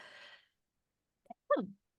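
A single short sneeze bursts out sharply after a soft breathy intake, close and fairly quiet, followed by silence.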